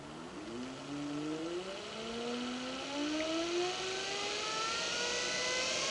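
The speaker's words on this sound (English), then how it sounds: "And now the motor's working." A treadmill motor fitted to an antique Logan lathe spins up with a rising whine, its tones climbing steadily in pitch as it accelerates, then holding a loud, steady hum with no talk.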